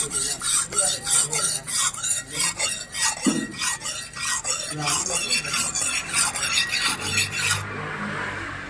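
A knife blade sharpened in a blacksmith workshop, heard as a steady, rhythmic rasping of metal, loud and close, with each stroke repeating through most of the clip before it stops abruptly.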